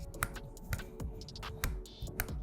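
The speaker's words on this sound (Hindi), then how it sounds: "सो ये जो क्लिकर्स हैं ये आपको हेल्प करते हैं एकदम परफेक्ट एंगल लेने में" Tripod collar of a Sigma 150-600mm f/5-6.3 DG DN Sports lens rotating through its detent clickers, giving a quick series of crisp, close mechanical clicks at an uneven pace with no talk.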